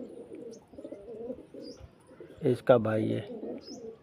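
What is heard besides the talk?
pigeon cooing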